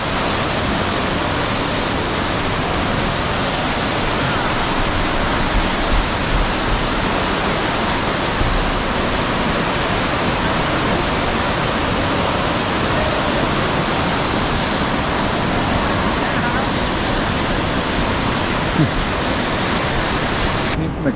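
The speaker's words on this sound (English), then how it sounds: "We made it to this nice waterfall." A waterfall in Switzerland's Aare Gorge roars close by in a loud, continuous rush of falling water that stays steady throughout.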